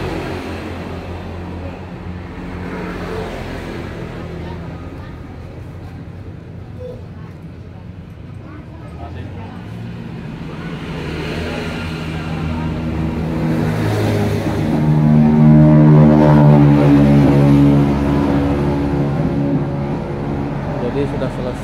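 A serviced motorcycle, fresh from an inner tube replacement, starts off and rides away on the road, its engine rumbling and swelling louder before easing off, with people talking over it.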